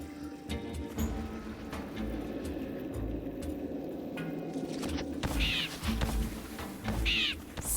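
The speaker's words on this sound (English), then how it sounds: "See these big brutal birds? They are not afraid of the scarecrow." Crows caw in a dark fantasy action game, a couple of harsh calls rising late over a low rumbling ambient bed with scattered clicks.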